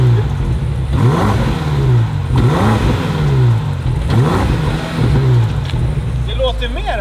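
A 2025 BMW M5 G90 hybrid with 727 hp revs up and falls back in three repeated swells, loud and close, with the engine note climbing and dropping each time, people talking over it.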